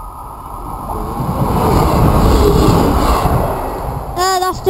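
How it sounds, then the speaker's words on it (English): A train passes Llantrisant West level crossing, a broad rumble that swells and holds steady, then eases as a voice speaks briefly near the end. "That's the train before the 800."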